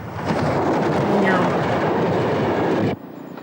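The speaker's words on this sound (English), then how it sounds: "Diesel trains took over the work of the steam trains." A diesel train rumbles steadily along the rails with a loud, close roar and faint clacking, cutting off sharply near the end.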